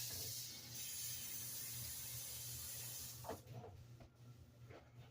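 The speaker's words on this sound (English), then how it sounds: "Let me rinse it out." Tap water rushes steadily into a baking pan for about three seconds, then shuts off, followed by a few soft clinks and drips.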